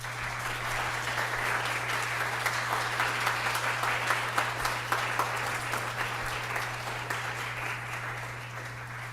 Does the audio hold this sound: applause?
yes